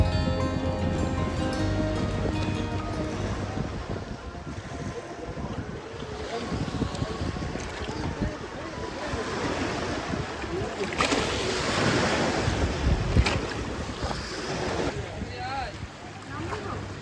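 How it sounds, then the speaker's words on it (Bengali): Sea waves on Mousuni Island crash and splash against the bamboo steps of a beach camp, with a steady roar of surf and wind buffeting the microphone and a louder surge near the end. "জল একদম আছড়ে পড়ছে এখানে সিঁড়িতে।"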